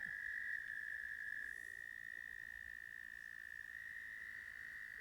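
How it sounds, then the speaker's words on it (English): Cricket frogs call in a steady, high-pitched, continuous chorus, faint and distant in a quiet outdoor setting, with no talking. "I'm pretty sure those are what you call cricket frogs."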